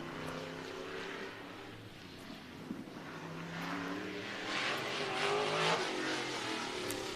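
Figure 8 race cars drone through a practice lap at the World Figure 8 Championship, a steady broad engine roar that swells louder toward the end as cars pass nearer.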